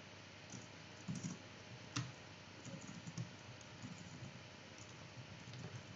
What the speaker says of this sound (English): Jeez, I can't type.